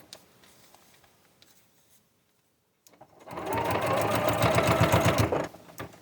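A sewing machine starts stitching after a quiet pause, running in a steady rapid mechanical patter for about two seconds before stopping.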